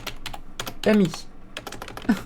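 Someone types on an American-layout computer keyboard, producing rapid, close, irregular key clicks and taps in quick bursts, with a brief voiced sound partway through.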